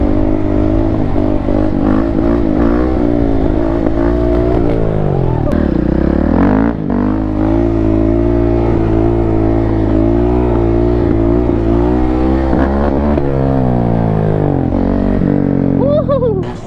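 A Suzuki dirt bike engine revs loudly and close by, its note climbing and falling continuously with throttle blips and a brief dip midway, running the whole time without a break.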